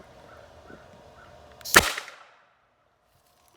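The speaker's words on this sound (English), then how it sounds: "that is going to be such an explosion" A bucket of bangs ignited by a taser cracks out in a single sharp blast after a quiet hum, followed by a brief rumbling tail that fades into silence.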